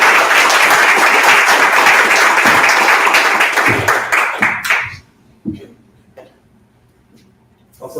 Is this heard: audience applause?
yes